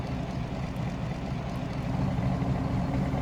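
Steady low rumble of a Holden V8 idling in the GRID Autosport racing game, heard from inside the cockpit, with a faint ticking texture running through it, close and unbroken, no one talking.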